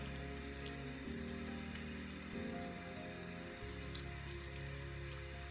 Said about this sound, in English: Rinse it off.